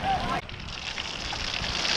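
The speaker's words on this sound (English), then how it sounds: "It's raining like hell, too." Heavy rain pours down at a beach, a steady broadband hiss that follows a brief louder gust-like burst at the start and stays dense and close throughout, with no talking.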